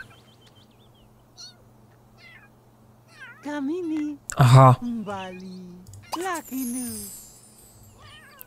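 A cat in The Sims 3 gives several short meows and a longer drawn-out cry at moderate volume, scattered among brief spoken remarks and a steady low background hum.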